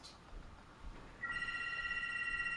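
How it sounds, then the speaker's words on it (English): A telephone in an office starts ringing with a bright electronic trill that cuts in partway through and keeps going steadily over a quiet room. "Would someone answer that frickin' phone?"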